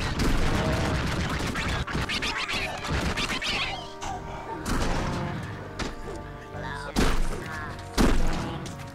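Shotgun blasts in the video game Raze's Hell, several loud booming shots with crashing impacts under dense game sound effects, the biggest bursts coming near the end.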